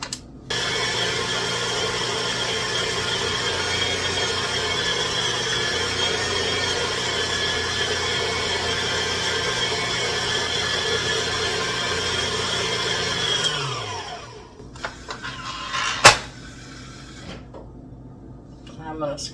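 Electric mixer blending pumpkin spice cinnamon roll dough, a steady loud whirring drone that runs for about fourteen seconds, then winds down and stops, leaving a few faint clatters and bumps.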